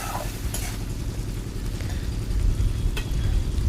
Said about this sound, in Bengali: তো দিয়ে মশলাটাকে একটু 4-5 মিনিটের মতো কষিয়ে নেব।